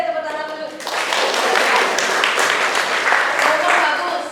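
Applause for a participant in a traditional costume contest, a burst of clapping from a gathered crowd that follows brief talk and lasts a few seconds at a fairly close, loud level.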